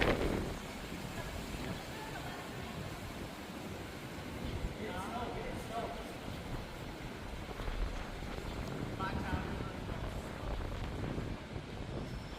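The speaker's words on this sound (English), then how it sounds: "So windy, what the fricks?" Wind buffets a microphone outdoors in a constant low rumbling roar with gusty swells, accompanied by occasional faint voice-like sounds.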